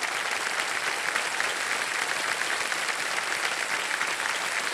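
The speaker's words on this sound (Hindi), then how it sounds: "तालियां बज जाएं इनके लिए" A studio audience at a televised quiz show claps in steady, dense applause, loud and continuous from start to finish with no voices standing out.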